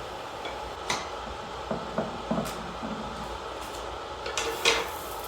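Soft clinks and scrapes of utensils against a dish as cheesy chicken breast bulgogi is served onto a plate, scattered irregular taps at close range in an otherwise quiet room.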